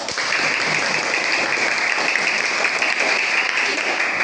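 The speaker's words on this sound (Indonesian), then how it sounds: "Tepuk tangan untuk kelompok 1" Students in a classroom applaud a group after its presentation, with dense, steady clapping from many hands that carries evenly for a few seconds.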